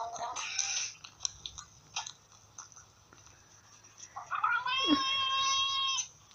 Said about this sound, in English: Chipmunk cat.